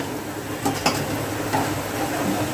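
Coriander fritters (kothimbir bhaji) fry in hot oil with a continuous close sizzle, punctuated by a couple of brief scraping and stirring clinks from a utensil in the pan.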